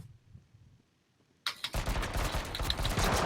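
Rapid gunfire in the H1Z1 battle royale video game, a dense burst of overlapping shots that starts abruptly after a quiet stretch and keeps going loud to the end.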